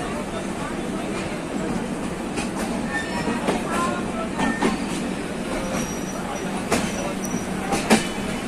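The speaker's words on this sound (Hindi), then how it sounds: "बहुत रेयर देखने को मिलता है इस तरीके का व्यू जो दोनों ट्रेन साथ में चल रही हैं" Two trains, one of them the Gondwana Express, run side by side on a line near Nagpur, giving a steady rumbling roll of wheels on rails with repeated clickety-clack joint knocks and occasional metallic squeals, loud and close.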